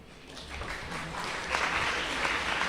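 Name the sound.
audience applause at a debate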